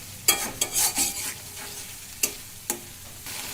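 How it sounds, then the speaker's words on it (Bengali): Spice paste (masala) being stirred and fried in oil for a village-style chicken curry, with a few sharp scraping stirs and short sizzling bursts close up, then quieter gaps and two more distinct scrapes. "এবারে আমরা মশলাটাকে সুন্দর করে কষিয়ে নেব যতক্ষণ না পর্যন্ত তেল ছেড়ে দেয়"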